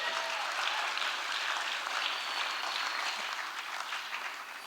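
A theatre audience applauds steadily after a storytelling set at the Liberty Theatre, a dense, even wash of many hands clapping at moderate distance, holding at a constant level throughout.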